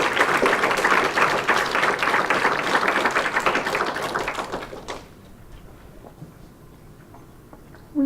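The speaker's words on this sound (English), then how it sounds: "Can we have one more round of applause?" A crowd at a high school poetry slam applauds loudly and steadily for about five seconds, then the clapping stops abruptly, leaving quiet room tone and a brief thump at the end.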